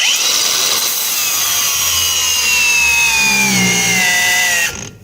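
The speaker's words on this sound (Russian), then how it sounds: "Болгарка реально мощная, отличная." A SHIDOKU cordless angle grinder cuts under heavy load, a loud, sustained high whine that slowly drops in pitch as the disc bogs down, then stops abruptly.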